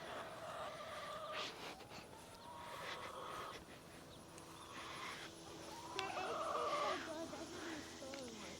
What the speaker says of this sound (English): We're going to walk this over to the chickens.